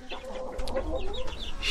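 Hens and a young rooster cluck steadily in a backyard coop, a busy overlapping flock chatter of short calls that stays close and fairly loud throughout.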